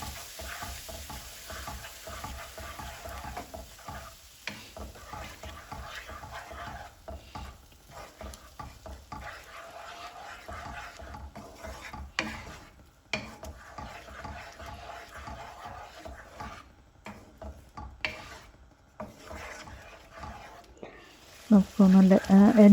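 Curd and masala sizzle in a pan under steady stirring, with rhythmic scraping strokes and a low crackle throughout, and a few louder knocks near the end.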